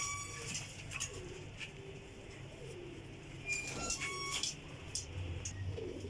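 Pigeons coo softly through a steady background hum, brief calls rising at intervals, with scattered chirps from birds of a Sialkoti breed kept for flying.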